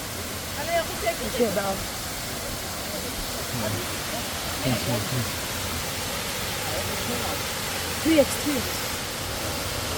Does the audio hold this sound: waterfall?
yes